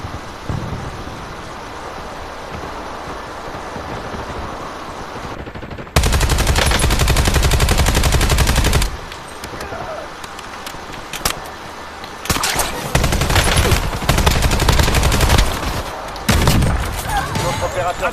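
Gunfire in the video game Warzone comes in long, loud bursts of automatic fire separated by quieter stretches of ambient game noise and occasional talk.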